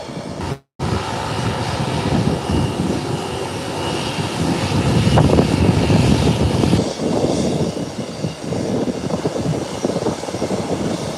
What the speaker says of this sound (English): Beechcraft 1900. Rolling in